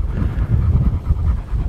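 A dog panting close by on an outdoor walk, rapid rhythmic breathy huffs repeating steadily without pause.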